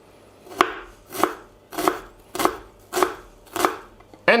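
An onion or shallot is chopped for a warm corn dip: six evenly spaced knife strikes on a board, close and crisp, with quiet pauses between and no talking.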